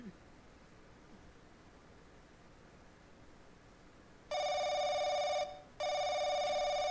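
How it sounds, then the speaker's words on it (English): Telephone ringing in the horror video game The Crooked Man, two loud electronic ring bursts with a short gap, starting after several seconds of quiet background hiss. "The phone is ringing."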